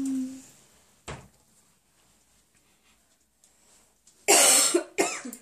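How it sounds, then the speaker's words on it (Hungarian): A child coughs indoors, two short bursts near the start and then a loud close cluster of coughs toward the end, with light household rustling between. "Nagyon köhög"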